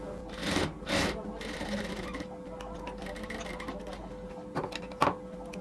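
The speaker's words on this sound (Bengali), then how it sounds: "এবার আমরা যতটুকু সেলাই বাকি ছিল ঠিক ততটুকু সেলাই আবার দিয়ে দিব এই জয়েন্টটা দেওয়ার পরে" A sewing machine stitching piping onto a neckline, a steady mechanical whir with a few louder bursts of rattling, heard close with faint background noise.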